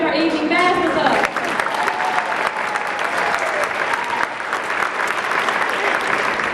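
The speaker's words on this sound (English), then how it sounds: "I think we need to give a special round of applause for Miss Rose Williams" Audience applause at an elementary school choir's dinner theater, a dense, steady wash of clapping that fills the whole stretch, with a voice briefly audible at the very start.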